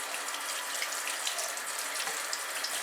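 Tap water runs steadily into a sink while a comb is rinsed under it, a continuous close splashing hiss at even loudness with no talking.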